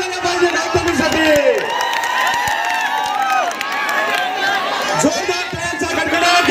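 A large festival crowd at a Govinda troupe gathering cheers and claps for Gautami Patil, a dense, steady roar of voices and hands with shouts rising above it, loud and continuous throughout.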